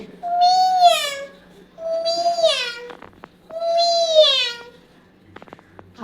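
A voice imitates a cat's meow three times in a row, each a drawn-out, rising-and-falling mew, fairly close and clear with short pauses between.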